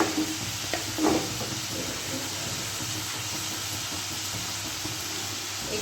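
Potato and papaya pieces fry in a pan, giving a continuous sizzling hiss with a few light stirring knocks early on.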